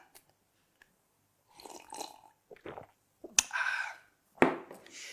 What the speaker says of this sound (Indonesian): Seruput dulu kopinya